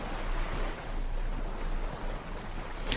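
Broad, steady surf wash from sea waves moving back and forth over sand, a continuous rushing hiss with gentle swells and some wind, no voices.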